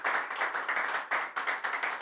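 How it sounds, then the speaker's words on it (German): Audience applause on a German-language show, a fairly faint round of clapping from a small group, with pulsing bursts that rise and fall over two seconds. "Applaus, Applaus, Applaus!"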